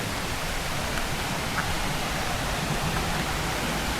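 A waterfall in Little Baguio, San Vicente, Palawan gives off a steady, dense roar of falling water that fills the whole stretch without a break.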